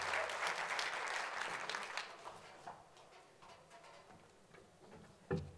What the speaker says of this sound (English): So give them a big round of applause as well.